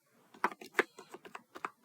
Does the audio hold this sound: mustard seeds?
no